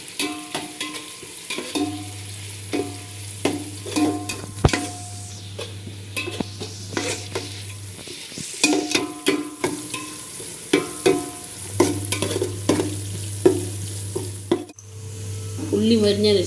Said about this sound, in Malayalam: വെളിച്ചെണ്ണയിലിടും. നല്ലോണം ഇളക്കണം.